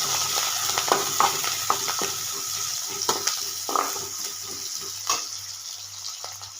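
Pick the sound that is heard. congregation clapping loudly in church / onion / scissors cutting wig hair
onion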